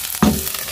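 A spiced mixture sizzles and fries in a pan while cooking a capsicum (shimla mirch) dish, a brief, close crackling hiss with a stir.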